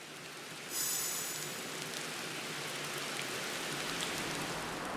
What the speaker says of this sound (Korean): 귓가에 유독 빗소리가 크게 들려서 설핏 잠이 깼어요